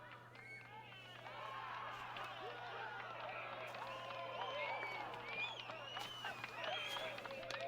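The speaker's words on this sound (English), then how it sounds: "Wish they had a cheer sound effect that was longer than just 5 seconds" A crowd cheers and shouts in the Assassin's Creed video game, with a Viking fort setting: steady, fairly faint babble of many voices with scattered whoops, starting softer and swelling after about a second over a low hum.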